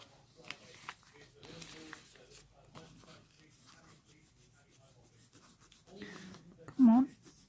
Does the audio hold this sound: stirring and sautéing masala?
no